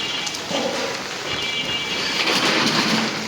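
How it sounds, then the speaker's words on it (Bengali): Steady morning rain falling outdoors, a continuous hiss of drops on surfaces at moderate loudness, with no voices over it. "বৃষ্টির যে ভাবসাব তাতে মনে হচ্ছে যে বৃষ্টিটা আসলে লং টাইম হবে"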